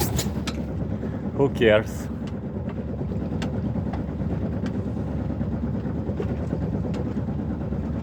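A sailboat's inboard engine motors along on the water off Spain, a steady low drone throughout, with people talking briefly over it.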